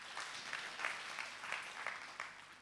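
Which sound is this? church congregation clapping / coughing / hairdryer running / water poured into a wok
church congregation clapping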